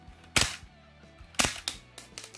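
A shell-ejecting blowback Glock replica fires a few sharp, loud cracks close by, with a lighter clatter after one shot, separated by quiet gaps.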